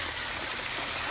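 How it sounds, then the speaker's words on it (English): Water pumped into a mountain pond pours in as a steady, soft rushing trickle, continuous and fairly quiet with no voices. "So this is the water he's pumping into this thing?"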